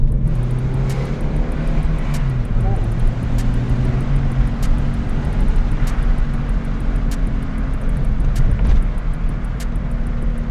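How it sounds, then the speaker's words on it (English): A cheap manual car drives steadily with a constant low rumbling hum and road noise, a droning growl from a worn front wheel bearing running throughout. "I hear that wheel bearing."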